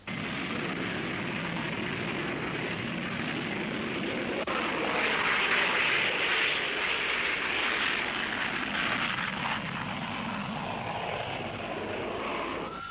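A Hawker Siddeley Harrier jet takes off conventionally, its engine a loud, steady roar with a broad hissing whine that swells mid-way and then slowly eases, heard alone without talk.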